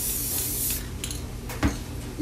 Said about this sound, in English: Spray some more into this little cup.